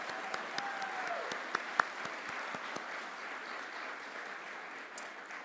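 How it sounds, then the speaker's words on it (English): Steady audience clapping at a sports product management commencement ceremony honoring graduates, a continuous wash of applause with a few sharper claps standing out. "We're gonna clap for you a lot."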